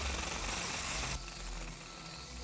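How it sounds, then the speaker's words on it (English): Anime sound effect of a drill boring into a person's head: a loud, dense grinding whir that drops abruptly to a lower, steadier rumble about halfway through, with no talking. "Drilling a hole in his head, of course."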